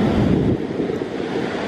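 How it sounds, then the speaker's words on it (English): Big ocean waves crashing on a beach at New Year, a loud rushing surge with heavy wind buffeting the microphone, no voices. "Look how big the waves are."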